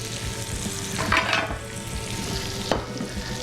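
Green beans sizzle and fry steadily in a hot pan, seasoned with salt and turned with tongs, with a couple of brief louder flips or stirs adding bursts to the constant crackle.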